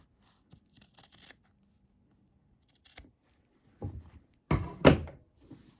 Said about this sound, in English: So now I'm going to cut about 1/4 of an inch, leave about 1/4 of an inch seam allowance here.